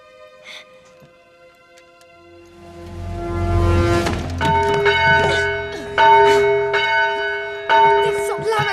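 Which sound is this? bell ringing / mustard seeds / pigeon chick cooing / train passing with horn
bell ringing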